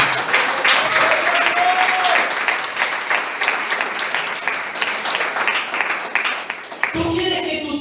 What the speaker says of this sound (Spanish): Denle un aplauso al que viene entonces